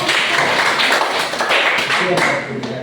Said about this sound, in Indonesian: Oke, kita kasih aplaus untuk kelompok